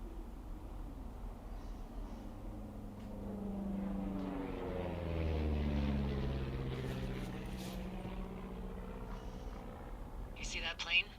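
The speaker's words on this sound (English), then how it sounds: "You see that plane?" A propeller airplane passing overhead in the video game Firewatch, a low droning engine that swells to a peak midway and fades away, heard alone without talk.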